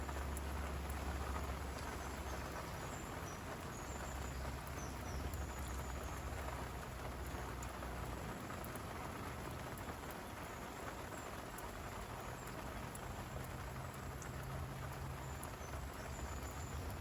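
Steady rain falls through a thunderstorm at night by a fishing spot, a dense even hiss of drops with low rumbling swells of thunder underneath, constant and moderately loud throughout.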